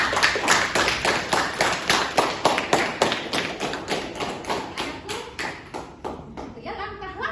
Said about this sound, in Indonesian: Tepuk tangan dulu sekali kita